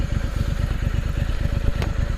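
Stock exhaust on a 2023 Triumph Scrambler 900 motorcycle idles up close, a steady loud low-end pulse of rapid even firing with a light mechanical clatter, alone with no talk.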